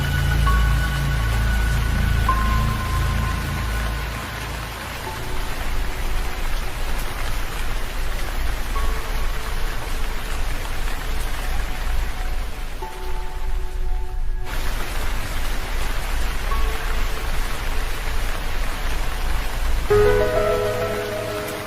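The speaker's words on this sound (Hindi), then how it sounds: "बारिश रुकने का नाम ही नहीं ले रही है" Heavy rain pours steadily and loudly, with a dense, constant hiss running unbroken through the whole stretch. A few faint tonal sounds drift in and out beneath it.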